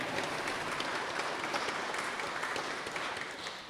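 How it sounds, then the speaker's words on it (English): Steady audience applause fills a campus athletics celebration at a Champions Center, dense clapping from a crowd sustained throughout and fading slightly at the end. "Give her a round of applause then."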